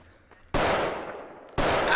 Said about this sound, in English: shots fired, explosion